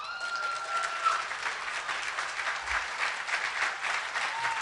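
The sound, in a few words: luncheon audience applause for award winner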